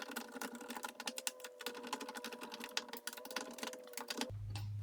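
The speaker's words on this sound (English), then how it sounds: "Now I just got to tighten the screws." Rapid clicking and ratcheting as screws are tightened on an interior door, a dense run of sharp taps that stops abruptly near the end, giving way to a low hum.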